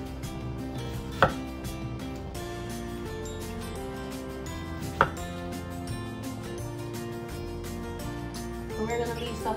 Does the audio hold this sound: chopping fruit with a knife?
yes